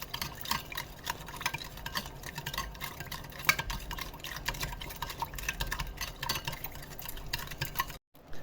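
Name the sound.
stirring qaraqeesh dough mixture together in a bowl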